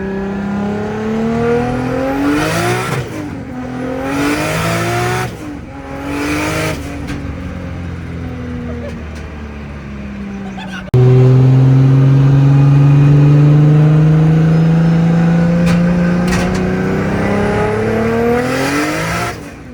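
A tuned Nissan 240SX S13 engine revving hard while driving, loud and close, with rising and falling pitch sweeps through repeated gear pulls and a long sustained high-rev climb in the second half.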